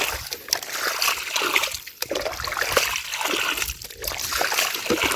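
Water splashing and sloshing steadily as small fish are scooped with a net, with repeated wet splatters and trickles throughout.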